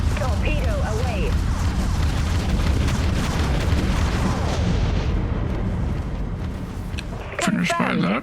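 Explosion of a torpedo hitting an enemy dreadnought in a space combat game, a continuous roaring blast with rumbling booms lasting several seconds under game voices, fading near the end before more chatter.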